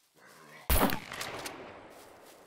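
A 12-gauge shotgun fires once in a survival video game, a loud close blast with a long reverberating tail fading over a couple of seconds.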